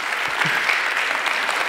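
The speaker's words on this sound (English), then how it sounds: "see, now you can clap." Church congregation clapping together, a steady, fairly loud wash of applause for under two seconds with no one talking.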